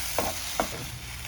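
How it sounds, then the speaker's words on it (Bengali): A jackfruit mixture with sugar is stirred and fried in a pan. Two quick spatula scrapes sound over a faint steady sizzle, close and quiet, with no voices. "6-7 মিনিটের মতো ভালো করে কষায় নিলাম।"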